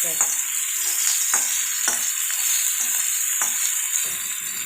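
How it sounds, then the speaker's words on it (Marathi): Onions fry in a pan with a loud continuous high sizzle, broken by regular scraping strokes of stirring about every half second. "सारखं फ्राय करत राहावं लागणार आहे कांद्याला जोपर्यंत लाल नाही होत तोपर्यंत फ्राय करत राहायचं"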